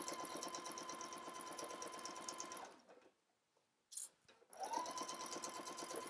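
A sewing machine stitches a pocket on jumpsuit pants in long, steady runs, pausing for about two seconds with a brief whir in the gap, then resuming at speed; the mechanical chatter stays close and loud throughout.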